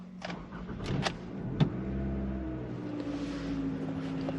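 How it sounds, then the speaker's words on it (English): A car engine starts after a battery change with memory settings preserved: a few sharp clicks, then a cranking burst that catches into a steady, close idle hum. "I'm going to start the vehicle back up."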